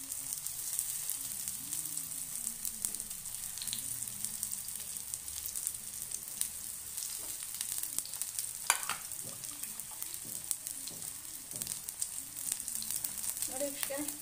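Brinjal slices coated in masala fry in a pan with a steady, soft sizzle and occasional faint scrapes, continuous and close, with no talking.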